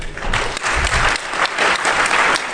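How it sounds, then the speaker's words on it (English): A hacking conference crowd claps loudly and continuously, the applause swelling in waves with no talking over it. "If you're not clapping, I'm a little disappointed."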